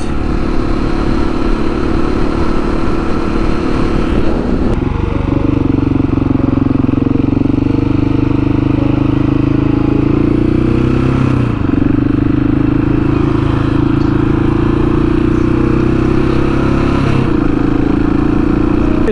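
A motorcycle ridden home on a flat tire drones loudly and steadily nearby, its engine humming with shifting pitch and occasional rattling clatter over constant road and wind noise.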